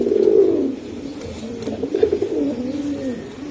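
Racing pigeons coo loudly and close, a strong opening call followed by rolling, wavering coos from one or two birds in a loft.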